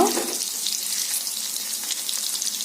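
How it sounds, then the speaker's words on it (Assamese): Paneer pieces frying in hot oil until golden brown for paneer pulao, a steady close, loud crackling sizzle that continues without a break. "এইখিনি মই গল্ডেন ব্ৰাউন হোৱাকৈ ভাজিম"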